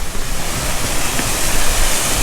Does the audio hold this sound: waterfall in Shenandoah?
yes